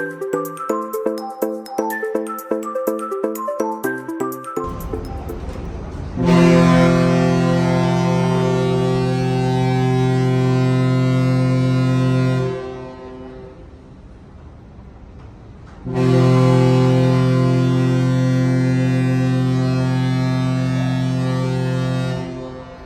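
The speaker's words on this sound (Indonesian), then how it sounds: "Udah ada klakson kapal 3 kali, yang artinya kapal ini akan segera meninggalkan pelabuhan Semayang" A deep ship's horn blasts loudly in long sustained notes as a ship prepares to leave Semayang port, a big one then another after a pause, over low engine rumble and ambient noise.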